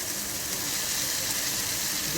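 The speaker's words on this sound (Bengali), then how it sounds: "এই যে শাপলাগুলো ভাজা হয়ে গেছে এবার মা ওটার মধ্যে মাছটা দিয়ে দেবে" Water lily stems frying with fish in a pan over a home stove, giving a steady, fairly quiet sizzling hiss that continues without a break.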